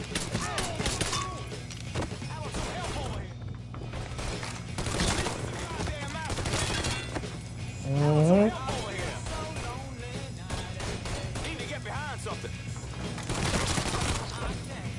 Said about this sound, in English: Let's use the pistol first.